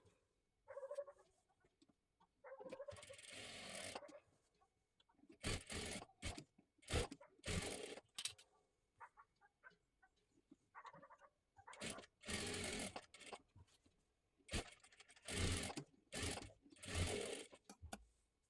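A sewing machine stitches the deep neckline of a blouse. Quiet, close bursts of rapid mechanical whirring start and stop repeatedly, separated by short pauses, with no talking.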